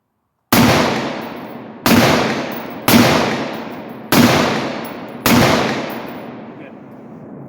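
Five rapid, loud gunshots from a 7.5 inch AR rifle chambered in 5.56 at a 100-yard range, each a sharp crack with a long ringing decay, spaced about a second apart.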